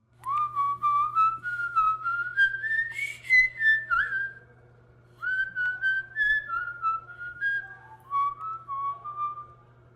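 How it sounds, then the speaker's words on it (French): Someone whistles a gentle, wandering melody in short phrases with brief pauses, clear and close over a low steady hum. "C'est quoi ce que tu siffles?"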